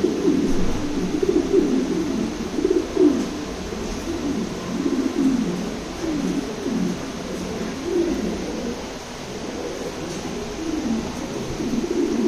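A new adult running pair of white king pigeons coos in steady, repeated low throaty rolls, close and continuous over a faint background hiss.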